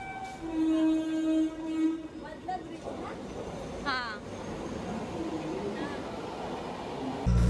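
A train at Thakurli railway station in India, with a horn-like tonal blast early on, then rumbling rail and station noise continuing under ambient chatter, a short squeal midway.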